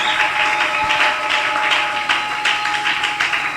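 A church congregation applauding, sustained dense clapping that swells and pulses steadily throughout, close and fairly loud.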